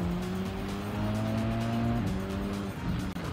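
An Audi Group B rally car races in Gran Turismo 7, its engine tone holding high and then dropping as it shifts, with faint tire noise, loud and close throughout.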